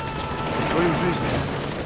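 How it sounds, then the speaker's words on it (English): Support helicopter in Metal Gear Solid 5: The Phantom Pain, a steady rotor drone under game effects with voices speaking over it. "Support helicopter Stand by."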